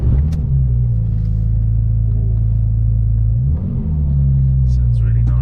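A Porsche 911 996 GT2 Clubsport engine turns over and settles into a deep, steady idle rumble, with a brief dip and rise in revs near the end.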